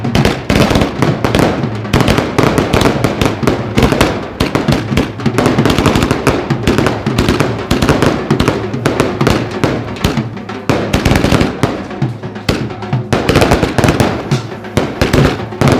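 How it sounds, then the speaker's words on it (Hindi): Firecrackers set off by BJP workers celebrating an election victory in Delhi crackle in a dense, loud, continuous barrage of sharp pops and bangs, close by and without pause. "पटाखों के जरिए जो है जश्न जो है वो मनाया जा रहा है"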